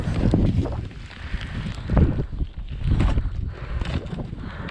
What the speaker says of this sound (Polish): No ale wiatr.